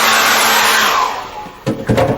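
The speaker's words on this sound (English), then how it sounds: "Let's just dry that off with a hairdryer." Hairdryer blowing on acrylic paint, a loud steady whoosh that fades out, followed by a few brief knocks and rustles.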